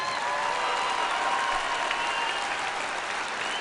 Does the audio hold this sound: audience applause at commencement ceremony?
yes